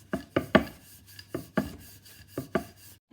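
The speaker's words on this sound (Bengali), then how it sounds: "এখন বেলে নিব।" A rolling pin thumps and rubs rhythmically on a board as dough for chicken spring rolls is rolled out, a series of close soft knocks and scrapes in uneven bursts.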